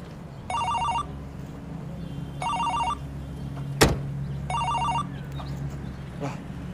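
A mobile phone rings in three electronic bursts with pauses between, over steady low background rumble, with one sharp knock midway.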